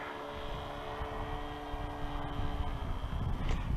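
A Sportsman Aviation Spitfire 60 RC model airplane coming in to land, its steady droning engine tone heard at a distance over rumbling wind noise, growing slightly louder toward the end.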